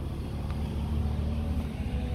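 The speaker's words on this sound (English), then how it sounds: "Sounds like a little bit of an idle vibration." A 2008 Toyota RAV4 Limited sits idling with a slight vibration, heard as a steady low engine rumble that holds constant throughout, nearby and without talk.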